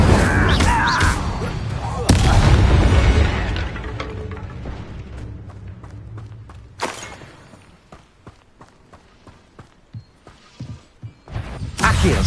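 Incendio fire spell effects in a Harry Potter video game, loud whooshing bursts with mechanical crackle and clatter, swelling then fading into scattered thumps.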